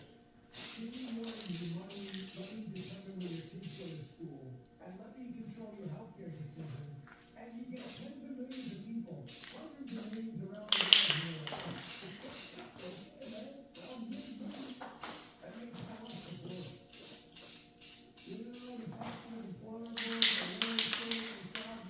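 Light coats of spray paint go onto a Green Touch Industries gas can in short, repeated hissing bursts of aerosol spray. A person talks softly between and under the bursts.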